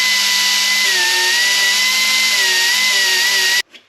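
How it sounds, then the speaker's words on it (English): An angle grinder strips paint from the car's bare metal with a loud, unbroken high whine that carries on for several seconds, then stops abruptly. "grind this off a little bit, the paint off right there"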